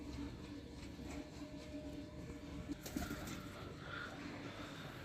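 Sohnay Kalay breed pigeons coo softly in a low, repeating rhythm, faint beneath a steady rumbling background noise.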